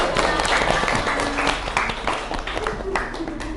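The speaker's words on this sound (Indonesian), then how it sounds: "beri tepuk tangan untuk kelompok 1 dan kelompok" Applause breaks out in a classroom presentation for groups 1 and 5, a short burst of uneven clapping mixed with nearby voices talking.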